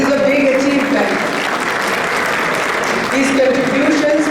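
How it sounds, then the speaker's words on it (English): Loud, close applause fills a physicians' society annual meeting hall, continuous throughout, with a voice speaking over the clapping. "Applause, guys."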